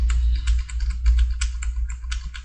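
Rapid run of arrow key presses on a computer keyboard while working in Illustrator, crisp clustered clicks repeating steadily at close range over a low hum, with no voices.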